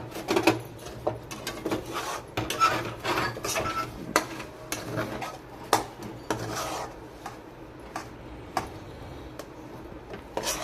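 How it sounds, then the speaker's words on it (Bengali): A spoon stirs semolina dough with added flour in a pan, giving soft scraping and rasping strokes with light taps against the metal. The sound is quiet and close, in an irregular rhythm with no talk. "তো এরপরে আমি ময়দা দিয়ে আবারও নাড়াচাড়া করে নিচ্ছি।"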